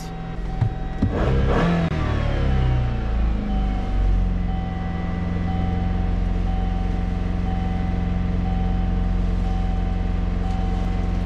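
A 2005 Kia Sportage engine with throttle position sensor and idle control faults revs up to about 2,500 RPM. It rises quickly near the start and then holds a steady, close, droning run.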